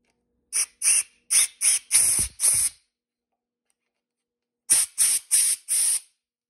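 Compressed air blowing out a transmission pipe fitting in short, sharp hissing bursts: six quick blasts, a pause of about two seconds, then four more, with silence between.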